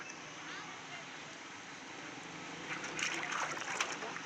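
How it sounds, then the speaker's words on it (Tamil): Water is poured and splashes in a steady, fairly quiet stream, with brighter splatters toward the end. "தண்ணி ஊற்றின்னுக்கிறாங்க ஃப்ரெண்ட்ஸ்"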